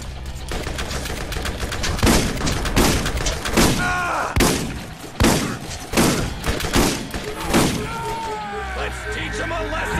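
Repeated loud shotgun blasts and gunfire bursts in the video game Borderlands, sharp booming shots spaced irregularly with echoing tails, up close over a game backdrop, with a voice talking between shots.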